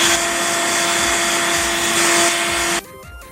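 A blower fan feeding air into a coal-fired blacksmith's forge roars as a steady, loud broadband whoosh with a faint tonal hum, then cuts off abruptly near the end, leaving quieter rattling.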